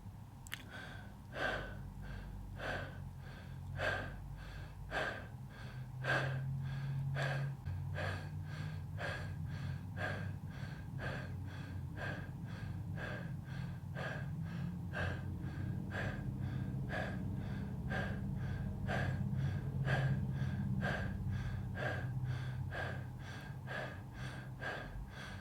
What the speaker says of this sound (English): Let's take these 25 connected breaths together.